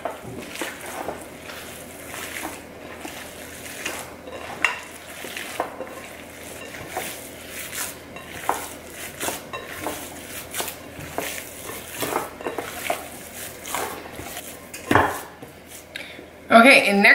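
Eggs are mixed into a keto bacon, egg and cheese sandwich mixture in a bowl, giving soft, irregular clinks and scrapes, with a louder knock near the end.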